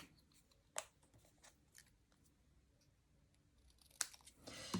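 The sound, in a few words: scissors cutting a strip of paper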